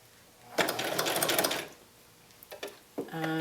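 A sewing machine stitches a stuffed bat pillow in short loud bursts, pausing between runs as the needle is lowered and the fabric pivoted, then starting up again.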